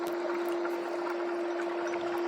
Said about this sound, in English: It looks like it's creating a lot more bubbles.